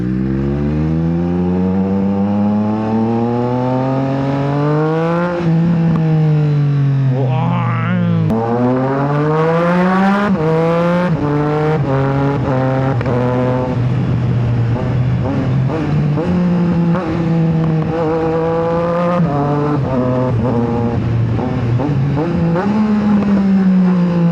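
A Triumph Street Triple motorcycle engine revs loud and close, climbing through gears with rising pitch sweeps and quick auto-blip quickshifts that snap the revs between changes, sustained throughout.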